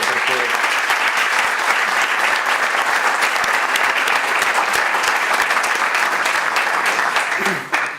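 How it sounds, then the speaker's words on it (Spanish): Loud, dense audience applause at an academic congress session in honor of its organizers, steady continuous clapping that fades out near the end. "empezar esta sesión solicitando un aplauso a las personas que han organizado este congreso"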